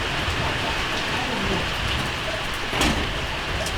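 Rain falls steadily on a rainy day in the mountains among Yörük shepherds, a dense close patter with a few louder drops and knocks standing out.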